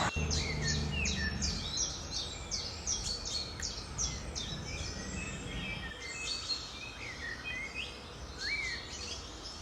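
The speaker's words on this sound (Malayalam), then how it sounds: "കിളി എപ്പോഴും ഇരുന്നിട്ട് ഇങ്ങനെ പാട്ട് പാടും കേട്ടോ." A bird sings continuously with varied chirps and whistled phrases over a soft background hum, fairly close and moderately loud.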